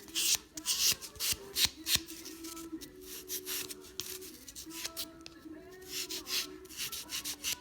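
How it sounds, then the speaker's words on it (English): A nail buffer rubs over builder gel on fingernails, smoothing out scratches with rapid, close, raspy back-and-forth strokes in irregular bursts, heard alone. "I will go in with a buffer and smooth out the large scratches."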